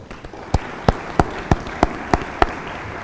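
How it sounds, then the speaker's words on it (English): Audience at a climate panel launch event clapping in slow, evenly spaced single claps, about eight distinct hits in a steady rhythm over a soft background hiss. "So please join me in a clap for your presence."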